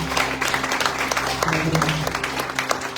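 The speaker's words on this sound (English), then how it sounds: "Clap your hands for the Lord." A crowd claps steadily and enthusiastically at a Sunday evening church retreat, a dense patter of hands with a low hum underneath.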